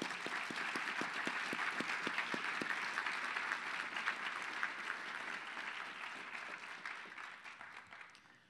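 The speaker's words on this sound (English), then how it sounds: "Let's give all of our award winners a great big round of applause." A large audience claps for award winners at a university lecture event, a steady sustained wash of applause with a few distinct close claps early on, gradually thinning toward the end.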